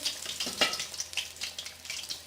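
Chicken samosas sizzle steadily in hot oil, a dense close frying hiss with faint crackles and a brief stir or splash near the start, with no talk.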